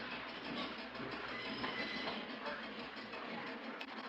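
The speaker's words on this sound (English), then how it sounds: "Here's a shot of the Key System Bay Bridge train 182 pulling out of the large car house" Key System Bay Bridge train 182 pulling out of a large car house onto museum trackage, giving a steady rolling rumble with a faint clickety-clack of wheels, loud and continuous throughout.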